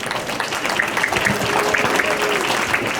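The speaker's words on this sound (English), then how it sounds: "One more big round of applause for them, please." An audience applauds at the Long Island Links SteamFest student showcase, steady dense clapping throughout with some crowd murmur beneath.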